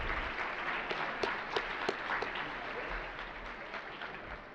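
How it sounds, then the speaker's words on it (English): Summit audience applauding presenters and panelists, a continuous dense round of clapping from a sizable crowd, fairly loud and even, with a few sharper claps popping out of the wash. "how about a round of applause for all of the presenters and panelists?"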